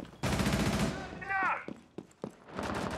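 Gunfire in the video game Rainbow Six Siege, loud bursts of rapid shots early on, followed by scattered single cracks and game sounds, with a voice speaking in between.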